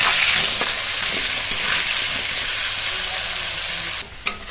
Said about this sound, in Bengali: ওই তেলের মধ্যে আলু দিয়ে দেব, সামান্য পরিমাণে লবণ হলুদ গুঁড়ো, আলুটা ভেজে নেব